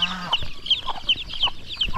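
Chicken chicks on a small backyard farm cheep and cluck in a quick run of short, high, close-up peeps, with a brief lower tone near the start.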